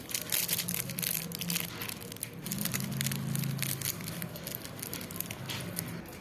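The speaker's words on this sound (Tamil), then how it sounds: "கற்பூரத்தை பார்த்தீங்கன்னா இந்த மாதிரி கையை வச்சு நல்லா அமுக்கி எடுத்திங்கன்னா அப்படியே தூளாயிரும்" Camphor tablets pressed and crushed to powder by hand, a steady close crunching and crackling grind that goes on throughout with no speech.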